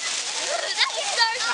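A garden hose sprays water in a steady hissing rush with brief splashes, close by, while voices talk and laugh over it.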